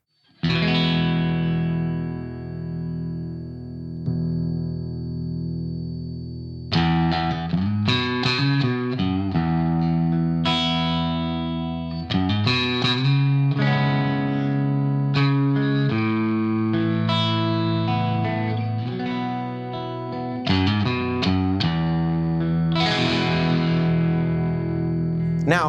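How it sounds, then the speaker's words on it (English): An electric guitar played through a Cornerstone Centurio pedal on a Klon-style always-on overdrive setting rings out in chords and single-note phrases, mildly driven and sustained, clearly in the foreground with no talking. "This is the classic settings, the always-on Klon thing."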